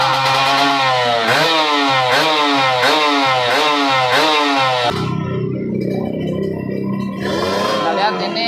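A Kawasaki Ninja SS two-stroke motorcycle engine is blipped repeatedly in quick rising rev bursts, then held at a raspy high buzz at part throttle, loud and close, with someone talking over it.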